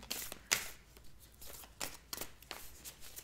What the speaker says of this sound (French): Il est difficile à mélanger ce jeu.